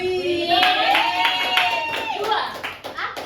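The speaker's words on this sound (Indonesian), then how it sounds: "berikan tepuk tangan untuk teman-teman kalian" Students clapping for classmates in a high school geography class, a few hands tapping in loose rhythm over a voice that keeps talking throughout.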